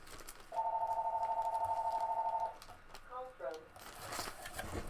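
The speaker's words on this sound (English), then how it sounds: "I'm gonna unplug my phone." Telephone ringing during a livestream, a steady electronic trill lasting about two seconds, fairly loud and close, followed by brief handling noises and a short bit of talk.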